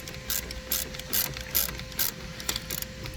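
A ratchet wrench tightens the positive battery terminal clamp on a 2015 Jeep Compass, with about eight quiet, close, evenly spaced clicking strokes.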